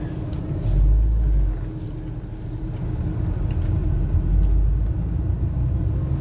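Interior drone of a 2000 Porsche 986 Boxster Sport Design with a manual clutch cruising down a street: a steady low engine and road rumble that swells briefly around the second second, with no talking.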